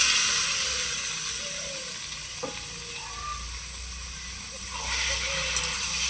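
Potatoes sizzle and hiss steadily in a frying pan for Bengali potato and egg curry as chopped tomatoes go in, with faint stirring scrapes and a soft clink over the continuous frying noise.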